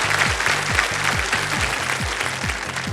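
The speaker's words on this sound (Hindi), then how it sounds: "ताली बजाएं इनके लिए।" A studio audience on a TV quiz show applauds in dense, steady clapping, with a rhythmic, thumping music beat underneath.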